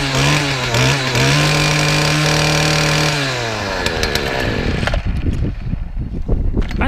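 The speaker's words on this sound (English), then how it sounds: "When I flicked it up on the choke, it fired." A Stihl FS40 two-stroke strimmer fires up and runs loud and close, its engine revving high and steady for a few seconds before dropping to a rough, sputtering idle.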